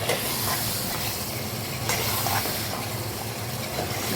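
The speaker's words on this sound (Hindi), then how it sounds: "यहाँ जी हम मिक्स कर रहे हैं बिरयानी मसाले को" Biryani masala being stirred in a pot for chicken biryani: a dense, continuous sizzling hiss with steady scraping from the stirring, heard close and fairly loud with no voices.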